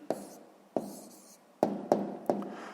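Pen writing an answer by hand during a sixth-grade maths exercise, five separate scratchy strokes each starting sharply and fading, close and quiet, with no talk.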